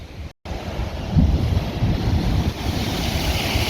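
Large ocean waves at Cascais, a loud roaring wash of surf broken by wind buffeting the microphone, with a brief dropout near the start and continuous rushing noise after.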